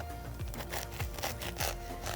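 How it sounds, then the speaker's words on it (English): A knife saws back and forth through a tall stacked deli sandwich, giving several rhythmic rasping strokes roughly every half second, faint and close. "Gentle downward pressure, lots of sawing."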